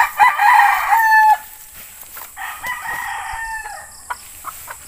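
A yellow-legged Dutch broodcock crows twice nearby, the first call loud and drawn out, the second softer and wavering, followed by a few low clucks.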